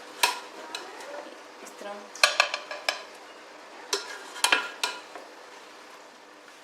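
Spicy chicken kabsa rice is scooped and served from a pot, with scattered metallic scrapes and clinks of a spoon against the pot rim, close and moderately loud, and a brief spoken phrase.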